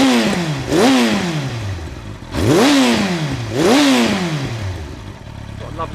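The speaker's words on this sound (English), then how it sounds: "popping on the overrun as well" Motorcycle fitted with a Power Commander 3, revved repeatedly in loud rising-and-falling blips, with a deep exhaust burble and crackling pops on the overrun between revs.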